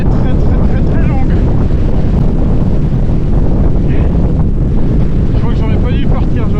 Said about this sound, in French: le vent emporte avec lui des cristaux de glace qui viennent me frapper le visage